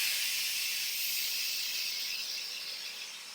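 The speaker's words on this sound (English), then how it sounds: "you're going to cover it, and then you're going to push the valve to venting" Instant Pot pressure cooker releasing steam through its venting valve, a loud, steady rushing hiss close by that slowly eases off, with no one talking.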